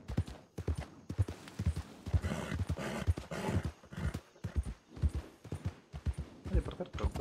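Horse hooves in Red Dead Redemption II, played on the RedM roleplay server: steady rhythmic clip-clop of hooves, close and clear, with voices talking over much of it.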